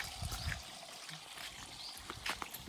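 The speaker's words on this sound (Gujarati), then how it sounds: "નળ આવી ગયા છે. હવે પાણી પડી લે, ગોળાને ભરી લે" Water trickling and splashing from a tap into a pot, fairly faint, with scattered knocks and background noise.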